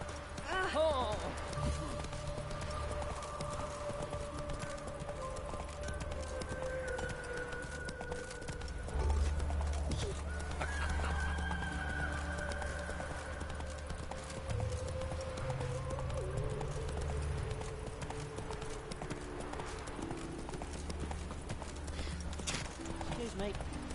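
Roach the horse galloping in The Witcher 3, a continuous rapid drum of hoofbeats with occasional snorts, carrying on beneath game dialogue and ambient music for the whole stretch.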